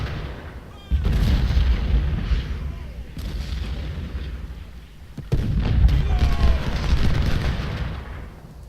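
Artillery bombardment from the Civil War strategy game Ultimate General: Civil War, with dense overlapping cannon booms and rumbling blasts that swell in two loud waves over a constant battle din.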